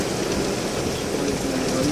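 Heavy rain during a severe thunderstorm, a steady dense hiss that fills the whole stretch at close range, with no breaks and no clear thunder.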